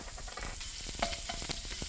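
Fresh ginger fries in about two teaspoons of oil in a hot frying pan, giving a loud, continuous close-up sizzle with scattered crackles and pops throughout.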